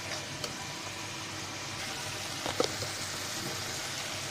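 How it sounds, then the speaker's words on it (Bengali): A spice paste of masala with chili powder fries in oil, giving a steady, soft sizzle throughout with a brief stir or clink near the middle. "মরিচের গুঁড়া, দিয়ে সুন্দর করে মশলাটাকে ভালো করে কষিয়ে নিতে হবে তেল ওঠা পর্যন্ত"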